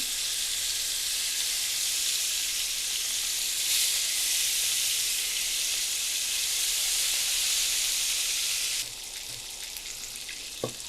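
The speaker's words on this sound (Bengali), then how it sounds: "তেলটা গরম হয়ে গেছে, আর মাছগুলো ভেজে নেব" Fish frying in hot oil in a frying pan, a steady loud sizzle and hiss that runs without a break, then drops slightly in level near the end, with a faint clink just after.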